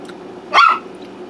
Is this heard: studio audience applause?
no